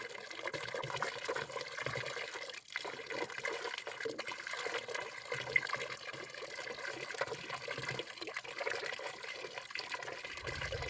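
Water running and trickling steadily at a village water source in the ghost village of Ruesta, a continuous close splashing flow with no talk over it.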